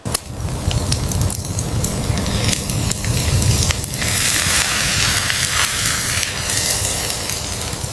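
Crackling, hissing sizzle of fish skin and spices in rendered fat over an open pine fire, steady and close, with popping snaps scattered throughout.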